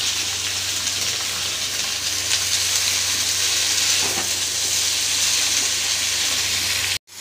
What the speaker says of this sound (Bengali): শাকগুলো দিয়েছি, একটু ভেজে নিয়েছি।